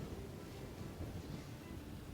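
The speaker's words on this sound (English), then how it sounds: "because it is quite windy" Wind buffets the microphone on a windy Sardinian beach, a steady low roaring rumble that fills the whole clip without a break, with no voices and no other sound standing out.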